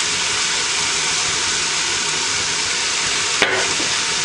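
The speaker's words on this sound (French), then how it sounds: "vous remuez bien" Creamy zucchini soup with oregano, pepper and salt in a pot, heard as a loud, steady sizzling hiss with a single sharp clink of a utensil near the end.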